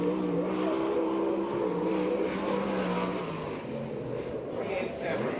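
A USAC/CRA sprint car circles the Perris track during its first lap, its engine droning steadily and loudly with rising and falling pitch, while a voice sounds faintly in the background.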